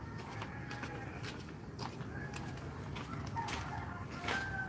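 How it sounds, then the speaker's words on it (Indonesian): A rooster clucks and crows in short, repeated bursts at moderate distance, over a steady background hiss with occasional footsteps. "Ini adalah si jago merah yang kalau tiap malam nemenin saya nyari setan ini"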